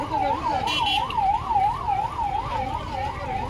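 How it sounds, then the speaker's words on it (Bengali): An ambulance siren wails in a steady, regular rising-and-falling cycle, repeating about every half second, fairly loud over a low road and traffic rumble, with no talking. "অ্যাম্বুলেন্সটা স্টে করে দেওয়া হচ্ছে।"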